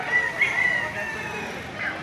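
A White Claret gamefowl rooster at a livestock market in Padre Garcia, Batangas, lets out short crowing and clucking calls, moderately close, over a murmur of background chatter.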